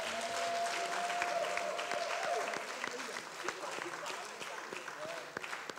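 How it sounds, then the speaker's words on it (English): A conference audience at a social entrepreneurship and philanthropy event gives a round of applause, fairly faint and distant clapping with distinct individual claps, and a voice speaking briefly near the start. "A rousing hand of applause once more"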